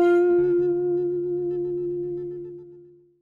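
A dry electric guitar played straight through a DI with no effects: a single sustained note rings out with a clean, thin tone and slowly decays over about three seconds, alone.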